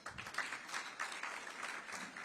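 A hall audience at a motivational session claps together on request, a dense, steady wash of hand claps that swells and holds, fairly quiet and distant, with no speech over it.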